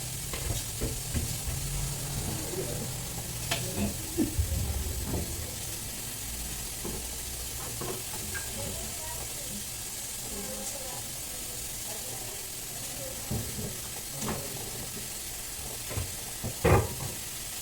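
Tempering frying in oil for an Ugadi festival dish, a steady low sizzle with scattered stirring scrapes and small pops, one sharper clatter near the end, close and fairly quiet.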